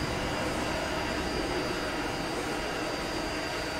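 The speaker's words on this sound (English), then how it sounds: "You hear the engine slowing down now." Simulated Antonov aircraft jet engines in a flight simulator, a continuous loud roar that stays even throughout, with no voices.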